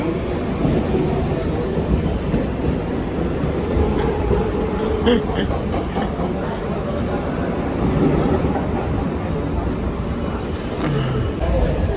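A Mumbai local train rumbles steadily along the tracks, a constant rolling drone with faint rattles, while people talk nearby over the noise.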